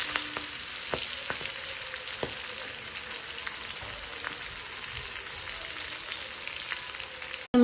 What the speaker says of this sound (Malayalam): ഇത് പൊരിച്ചിട്ട് കാണിച്ചു തരാം കേട്ടോ